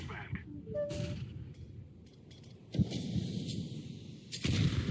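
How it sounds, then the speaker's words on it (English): Counter-Strike 2 match audio with gunfire and a flashbang grenade: sharp shots and bursts scattered across the clip, with a louder burst near the end and quieter game noise in between. "I'm throwing a flashbang"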